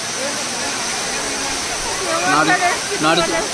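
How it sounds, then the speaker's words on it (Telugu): Edurkonda waterfall roars with a steady, dense rush of falling water, close and constant, while a voice talks over it in the second half. "friends, ఎదుర్కొండ water fall"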